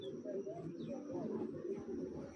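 A pigeon with blue markings coos softly in low, rolling murmurs, faint and close, with a thin background hum.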